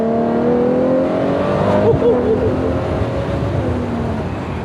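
A Ferrari 812 GTS with its V12 engine accelerates hard during a drive, the loud, layered engine note rising and holding close and steady for several seconds.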